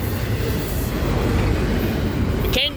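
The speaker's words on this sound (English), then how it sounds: "And finally this train comes, finally" A freight train rumbles through the Fosterville Road crossing near Fosterville, Tennessee, with loud, continuous rolling wheel noise close by and a brief squeal at the end.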